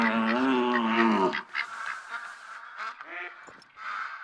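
Ducks honk and quack in theHunter: Call of the Wild on the Te Awaroa reserve. A loud, drawn-out honking call opens, then scattered shorter quacks and calls follow more faintly.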